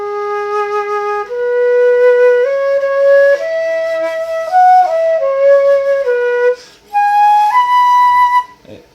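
A solo flute plays a sustained melody packed with sliding pitch bends between notes, loud, close and unaccompanied.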